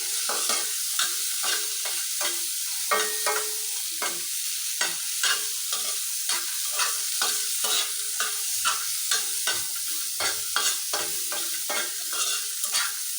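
Dried fish (shutki) fries in hot oil in a pan while it is stirred and scraped, producing a continuous sizzle broken by frequent sharp, close scraping strokes at an irregular pace, with no voices.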